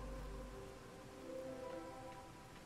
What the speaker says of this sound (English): Because we have this going on, the hailstorm.